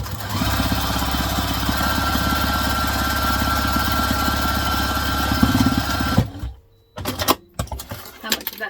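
A sewing machine stitches a Gidi diaper clutch on a shorter stitch length. Its motor runs in a steady, close, continuous whir for about six seconds, then stops, followed by a few brief handling clicks.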